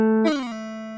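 Sampled plucked note with a fall slide played in an OpenMPT tracker, the end note pitched wrong; a bright tonal attack bends downward within half a second, then holds a steady sustained tone, a single short event.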